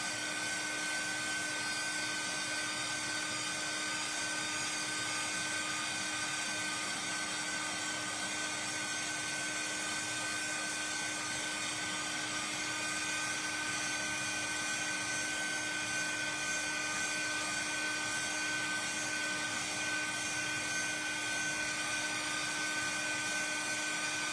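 A handheld dryer drying paint on an art page gives a constant, steady whirring hum with a high whine, holding unchanged for a long stretch with no talking.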